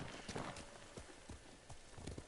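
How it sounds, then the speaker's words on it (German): A horse in the video game Ghost of Tsushima stumbles and falls, heard as a quick series of hoof clops and thuds over a soft game ambience, fairly faint and without speech. "Nicht, dass das Pferd immer so brutal stürzt, aber es ist meine Dummheit, die das hervorruft."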